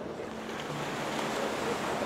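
Ocean surf washing in steadily with wind noise across the microphone, where glass eels are netted with a sieve in the shallow water at the shoreline; no voices.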